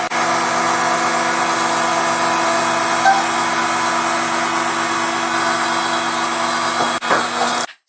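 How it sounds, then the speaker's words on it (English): An Avid Armor Cellar Series chamber vacuum sealer runs its cycle on mason jars, giving a steady mechanical hum that holds level and then cuts off abruptly at the end. "You're going to apply pressure and make sure the vacuum engages, and you're just going to let it run its cycle."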